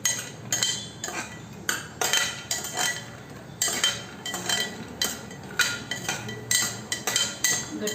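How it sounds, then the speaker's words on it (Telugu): Meal maker soya chunks being stirred in oil in a pan, heard as a steady rhythm of metallic spoon scrapes and clinks against the pan, close and distinct with no talking. "కొంచెం ఆయిల్ కూడా వేసుకోవాలి. బాగా ఫ్రై అవ్వాలండి మిల్ మేకర్."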